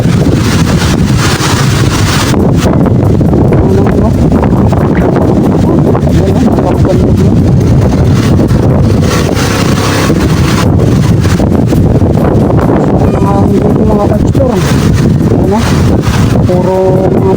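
Strong wind on Mount Pulag buffets the microphone in a loud, continuous roar with gusty rumbling throughout, no voices heard.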